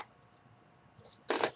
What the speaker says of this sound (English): Let me shuffle real good for ya.